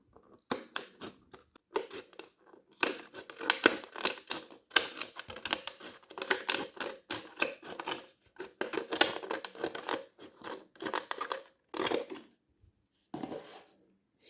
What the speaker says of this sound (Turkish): Büyük makasımdan yardım alıyorum.